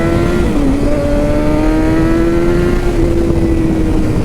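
A Kawasaki ZX6R motorcycle engine revs loudly and close during a shakedown, a sustained high-pitched whine that holds steady with a slight dip early on and a gradual fall toward the end.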